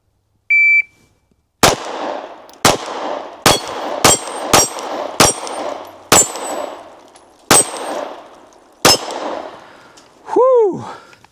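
A short electronic shot timer beep sounds, followed after a pause by a rapid series of loud pistol shots from a Glock 43x and a clanging ring at the end.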